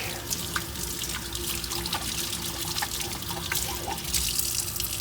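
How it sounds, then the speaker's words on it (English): Water from a sink tap runs steadily while hands are washed beneath it, a close, continuous splashing rush with small trickles and drips throughout. "you want to wash those germs down the sink"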